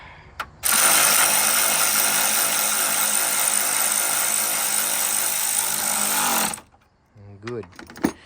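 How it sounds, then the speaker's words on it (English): Tightening a battery cable nut on a 2012 Chevrolet Cruze, heard as a loud, steady buzzing mechanical whir lasting about six seconds. It stops abruptly, and a brief voice follows. "Snug the nut up."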